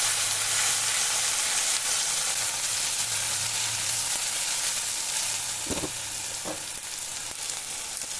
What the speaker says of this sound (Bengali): ভালো করে নাড়তে হবে, মশলাটা ভালো করে ভেজে নিতে হবে।